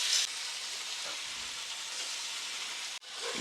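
Chicken frying in a pan with ginger garlic paste for a spicy curry gives a steady close sizzle throughout, briefly cut off near the end before resuming, with no voices.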